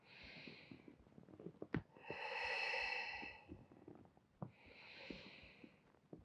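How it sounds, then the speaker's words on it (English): Slow, audible breaths during a classic Pilates morning stretch workout, with two soft hissing exhales and a fuller breath between them, close to the mic, accompanied by faint rustles and small body noises. "Breathing out."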